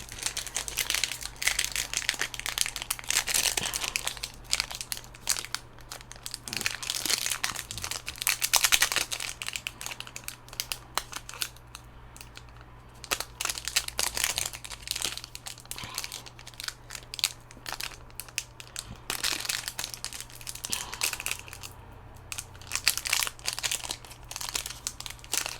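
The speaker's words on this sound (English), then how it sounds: "the last pack's always the hardest to open" Kamigawa trading card booster pack wrapper being torn and crumpled open, with continuous crinkling and crunching foil noises close up, steady and fairly quiet, no talking.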